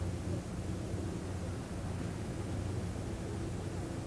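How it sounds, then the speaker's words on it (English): Distant road traffic makes a steady, low rumbling wash with no distinct vehicles standing out, continuous for about four seconds. "Listen to the traffic."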